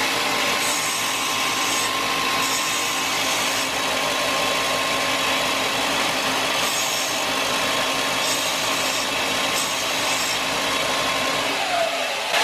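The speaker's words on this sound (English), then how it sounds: "I'm just gonna hit this with the sander just real quick" Power sander grinds steadily on the fret tangs of a Rickenbacker bass during a refret, a loud continuous whir with a faint tonal hum that runs for about twelve seconds before cutting off abruptly.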